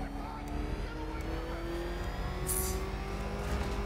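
Batmobile driving in Batman: Arkham Knight, a steady engine drone with rising revs and a brief hiss midway, continuous and fairly close, with someone talking occasionally.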